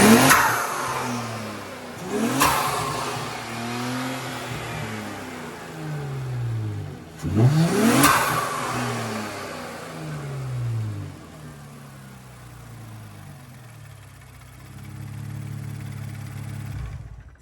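An Infiniti Q50 twin-turbo engine fitted with BMS intakes revs in two sharp bursts, each climbing then falling away with turbo whoosh and clatter, followed by a quieter steady idle.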